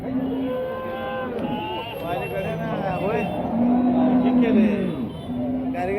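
Cattle, including Jersey cows, moo loudly and repeatedly, long drawn-out calls over a bustling crowd at a livestock market in Sangola, with people talking and distant vehicle noise.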